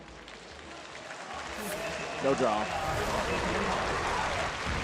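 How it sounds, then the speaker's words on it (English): An esports crowd cheers and roars continuously at the Hearthstone HCT Spring Championship semifinals, a dense wash of noise with a commentator talking over it. "Crowd going nuts."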